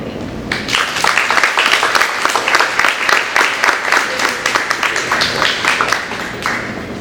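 Close, loud applause at a youth conference after speaker Aisha finishes, starting abruptly and continuing with a rhythmic, pulsing clap pattern from a modest crowd, easing toward the end.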